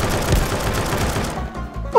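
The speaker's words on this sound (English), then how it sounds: "came out with a mini gun" Continuous rapid gunfire from a minigun in the game Bean Battles, a dense, loud, unbroken roar of shots that runs for most of the moment and then thins out near the end.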